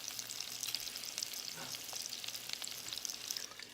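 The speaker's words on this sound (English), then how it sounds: "Let them saute for just a little bit." Turkey chops sizzle in grapeseed oil in a covered pan, a steady bright crackle of frying that stays close and even throughout, with no talk over it.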